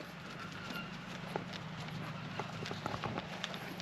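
Horse hooves clip-clop at a walking pace on hard ground at Little Manatee River State Park, a run of light irregular knocks over an outdoor background hum.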